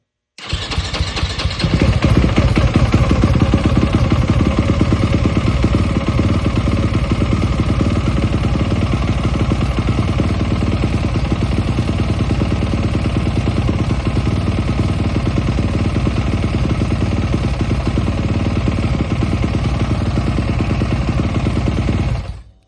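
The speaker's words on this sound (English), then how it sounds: "I'm going to start the motorcycle." A Yamaha YZF motorcycle with an aftermarket ECU starts up and runs loudly and steadily close by, its engine held in a continuous rough drone with launch control engaged, with no voices.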